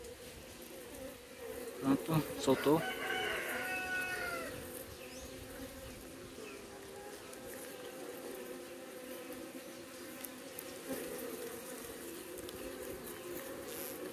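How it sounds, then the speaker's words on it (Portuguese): Jandaíra stingless bees buzz in an opened hive box during hive splitting, a faint, steady hum with a few louder bursts near the start. A person speaks briefly. "Já está nascendo bastante abelha já"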